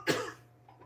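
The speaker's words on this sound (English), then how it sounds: "I feel a cough coming on." A single short, fairly quiet cough, followed by faint breathy noise.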